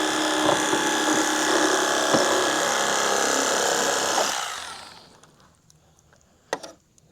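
An electric WORKPRO fish fillet knife buzzes steadily while slicing a fish fillet, the motor hum running for about four seconds before cutting off, followed by a faint knock in near silence.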